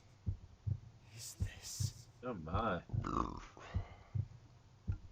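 Rhythmic low double-thump heartbeat from the video game Radiant Historia pulses evenly throughout, while someone talks briefly over the middle beats.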